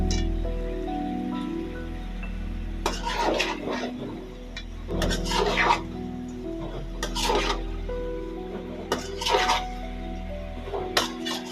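Chicken gizzards and liver stirred with spices in a metal pan: repeated scraping and rubbing strokes come in uneven bursts over a low steady hum, close and fairly loud.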